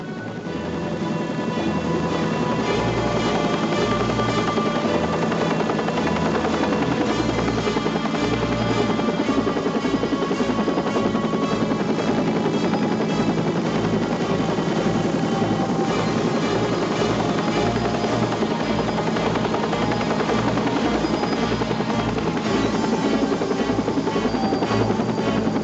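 A helicopter flies a rescue over granite slopes and deep ravines, its rotor and engine giving a steady, loud roar with a low pulsing beat that holds throughout.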